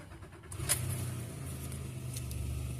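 A Honda Ridgeline pickup with an exhaust leak cranks and catches, then settles into a steady, close, low engine rumble that runs to the end with no talking.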